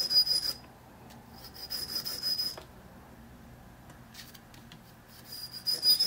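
A Master Lock No. 77 padlock key blank is rubbed over 1000 grit sandpaper in short close strokes, with three bursts of scratchy sanding separated by quieter pauses.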